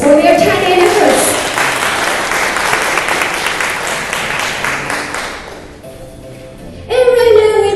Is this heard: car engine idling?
no